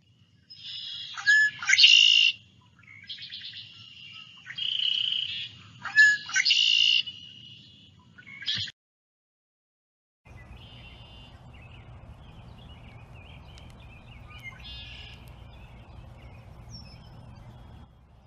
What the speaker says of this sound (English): It is the red-winged blackbird.